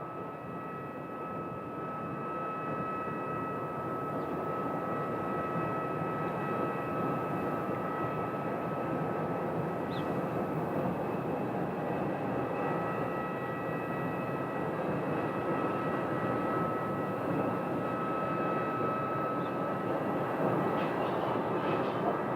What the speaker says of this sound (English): Cessna 208 Caravan.